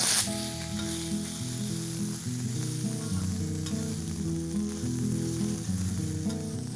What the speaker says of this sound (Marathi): एक मोठा चमचा आलं लसणाची पेस्ट, एक मोठा चमचा मिरचीची भरड। हे पुन्हा छान मिक्स करूया।